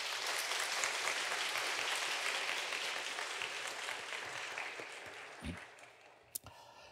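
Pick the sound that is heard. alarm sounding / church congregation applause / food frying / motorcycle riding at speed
church congregation applause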